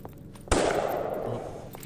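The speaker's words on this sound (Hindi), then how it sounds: "ये तो गोली चलने की आवाज है।" Gunfire in a dubbed Indian action film scene, a single sudden loud blast followed by a noisy, rumbling burst that lingers and fades slowly.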